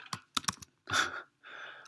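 Keys clack on a computer keyboard in a few quick close taps, then two longer bursts of rapid typing, with no talk.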